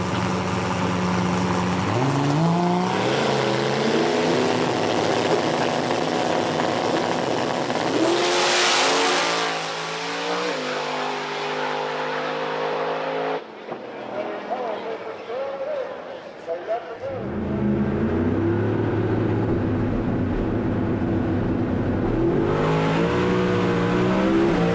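A drag racing car makes a pass, its engine screaming loudly through rising gear changes, cutting out briefly, then revving again, with people talking over the roar.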